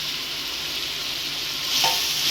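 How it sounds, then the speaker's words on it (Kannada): Mushrooms and masala fry in hot oil for a mushroom biryani, a dense close sizzle with light stirring scrapes, the hiss swelling briefly near the end. "ಈಗ ಮಶ್ರೂಮ್ ಹಾಕ್ಕೊಳ್ಳೋಣ, ಚೆನ್ನಾಗಿ ಫ್ರೈ ಮಾಡ್ಕೊಳ್ಳೋಣ ಎಣ್ಣೆಯಲ್ಲಿ."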